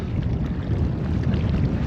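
Wind buffets a microphone at Sweetwater Reservoir while fishing, a continuous low, rumbling roar that fluctuates slightly, with no voices.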